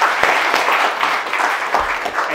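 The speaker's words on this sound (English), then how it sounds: "Please clap." Audience applause breaks out right after a talk on numbers and data ends, a dense steady patter of many hands clapping at moderate volume throughout.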